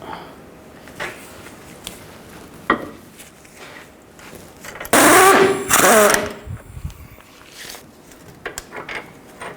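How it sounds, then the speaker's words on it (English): An 18mm socket ratchet works a bolt loose on the front lower control arm of a 2010-16 Buick LaCrosse: quiet clanks, then a loud burst of rapid mechanical clicking midway. "Take an 18mm wrench and put it on the nut of this bolt and 18mm socket on the bolt and take it out"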